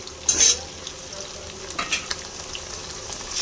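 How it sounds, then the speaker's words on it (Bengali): Chopped onion and a medium-sized tomato frying softly in a pan, a low steady sizzle broken by a few brief stirring scrapes near the start and middle. "এবার টমেটোকে হালকা করে ভেজে নেব, একটু নরম করে নেব"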